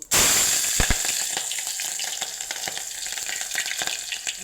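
Mustard and cumin seeds frying in hot oil on a stove give a steady, close sizzle with fine crackles and pops throughout.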